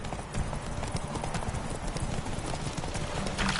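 Roach, Geralt's horse in The Witcher 3, gallops in a steady rapid clip-clop of hooves, close and continuous, with brief voices faintly under the hoofbeats.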